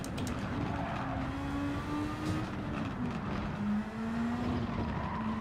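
Formula 1 race car in a video game at a wet Suzuka circuit, a steady high engine whine rising and falling as it accelerates through corners, alone and continuous.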